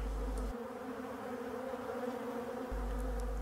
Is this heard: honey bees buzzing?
yes